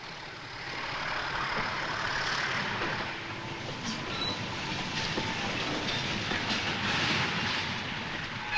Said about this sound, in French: Après avoir emprunté un train qui s'est arrêté dans toutes les gares pour prendre ou laisser les wagons